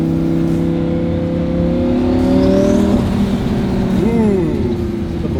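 Turbocharged Lamborghini rally car engine revving hard with steady rising harmonics, then a sharp drop where a blow-off valve whooshes and the pitch falls; loud and close throughout, with brief voices over it.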